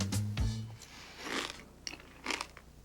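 Close, crisp crunching of Kellogg's Frosted Mini-Wheats cereal being bitten and chewed, a few irregular crunches with quiet pauses between them.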